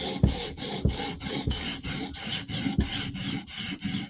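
A knife blade's heel is stroked against a sharpening stone in steady, even rasping passes, about six loud close scrapes with short pauses between them and no voices.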